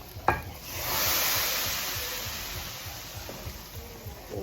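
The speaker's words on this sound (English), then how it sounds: "I'm gonna add my tadka." Tadka of hot spiced oil poured into a pot of home-cooked curry, giving a sharp crackle at the start that swells into a steady, fairly loud sizzle and slowly fades, with faint stirring scrapes underneath.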